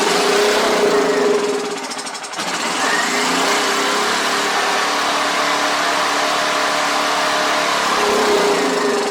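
Generac GP5500 portable generator engine running loud and steady at constant speed, with a brief dip in level about two seconds in before settling back to an even drone.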